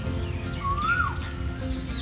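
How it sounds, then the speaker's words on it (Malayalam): A kite, a bird of prey, gives a single thin rising-and-falling whistled call at moderate distance over steady low background noise. "പരുന്താണോ അത്?"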